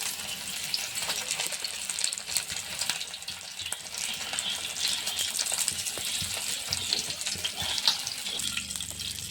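Masala-coated fish frying in oil in a pan, a dense, bright, continuous sizzle with faint scraping movements underneath, steady and close from start to end.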